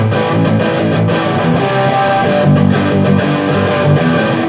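An electric guitar played through an amp without a Marshall JCM 800 overdrive pedal, a dense, loud, sustained chordal tone ringing continuously and close.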